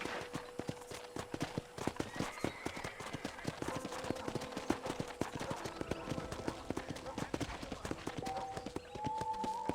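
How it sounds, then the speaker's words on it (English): Steady clip-clop of horse hooves at a walking pace in the Red Dead Redemption video game on a ranch, near and rhythmic, with a faint game background and a brief tone late on. "I picked out a fine horse for you."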